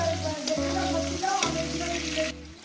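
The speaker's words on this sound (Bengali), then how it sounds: "এবারে পেঁয়াজটাকে দিয়ে আমি আরো 4-5 মিনিট ভাজবো।" Onions frying in oil in a pan with potatoes for a Bengali katla fish curry, a steady close sizzle with occasional stirring scrapes, a faint tonal hum beneath, and the sizzle dropping away near the end.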